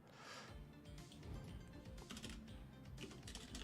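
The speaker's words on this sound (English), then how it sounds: "I can't type tonight." Soft, quick typing on a computer keyboard, an irregular run of light key clicks with brief pauses, faint and close, with no voice over it.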